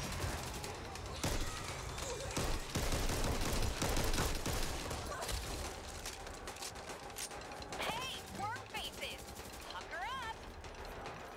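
Rapid bursts of automatic gunfire in the zombie shooter Back 4 Blood, loud and dense with sharp repeated shots, mixed with game effects and a player talking over it.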